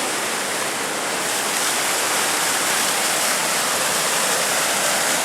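Waterfall tumbling over old stonework at a grist mill in Costley Mill Park, a steady, loud broadband rush of falling water holding constant throughout with no voices.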